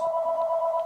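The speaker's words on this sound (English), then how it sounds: "that's my phone" A phone rings with a steady, clean electronic tone that holds without a break, faint but clear over a quiet room.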